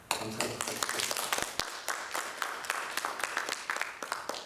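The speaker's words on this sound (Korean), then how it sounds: "우리 감사의 박수 드리겠습니다." Congregation in a Korean Presbyterian church service applauding to thank visiting members, a burst of many hands clapping with sharp individual claps standing out, slightly distant and reverberant.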